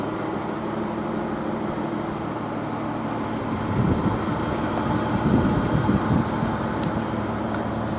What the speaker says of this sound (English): the engine's running now